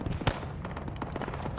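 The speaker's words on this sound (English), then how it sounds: "we're getting shot at from the west" Gunfire in a military video game, with one sharp shot near the start followed by a run of quieter, rapid cracks and pops at a distance.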